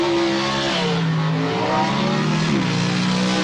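A pro stock drag racing car rolls through the pits, its engine note loud and close, rising and falling in pitch as the revs shift.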